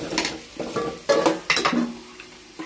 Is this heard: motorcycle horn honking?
no